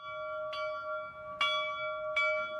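Church bells in Pueblo ringing in memory of COVID-19 victims, three clear resonant strikes with long sustained tones, heard alone.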